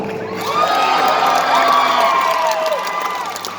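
Crowd at an acoustic concert cheers and whoops, with sustained shouting voices swelling after a half-second and tapering near the end, and light clapping mixed in.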